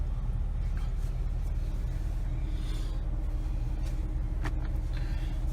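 A 2011 Jeep Wrangler Rubicon 4x4 idles with a steady low rumble that holds even and continuous throughout, with faint passing traffic noise in the background.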